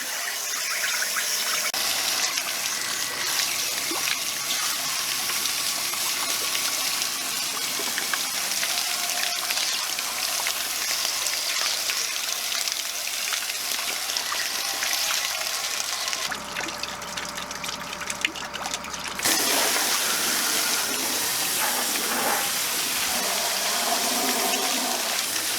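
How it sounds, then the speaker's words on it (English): Water from a freshwater hose rushes steadily through an RV water heater tank as it is flushed of minerals, a continuous loud gushing and splashing that shifts in tone partway through. "you just hook this up to a freshwater hose, and then open it up inside the tank"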